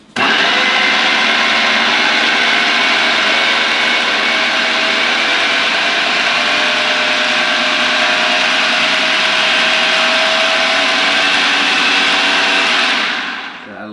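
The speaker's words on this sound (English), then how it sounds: "since it's a smaller food processor, it won't mix around as much" A small food processor whirs loudly and steadily, blending energy ball ingredients in one continuous high-pitched grind that holds nearly fourteen seconds before cutting off, close to the microphone with no talking.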